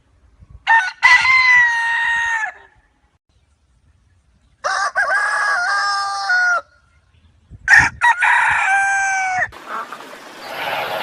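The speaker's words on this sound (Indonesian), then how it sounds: "Yang keenam, ada ayam." A rooster crows three times in long, loud calls separated by pauses, with a few hen clucks and scratchy noise at the end.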